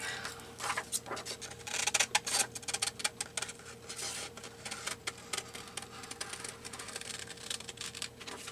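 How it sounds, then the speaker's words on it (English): Scissors cutting paper for a junk journal collage, a steady run of close, crisp snipping and rustling clicks with no talking. "Let's cut this out."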